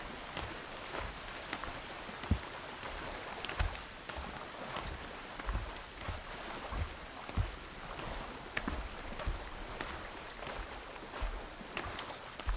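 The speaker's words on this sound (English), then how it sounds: "To see the rain. We have water." Rain in the Sons of the Forest game falls steadily, a soft wash of drops and patter with irregular louder taps scattered throughout, moderately quiet and unbroken.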